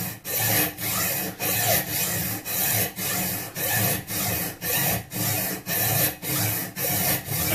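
A piece of whetstone rubbed back and forth over an old metal scraper blade to deburr it, producing a steady series of about a dozen even, rasping strokes, close and loud with no talking.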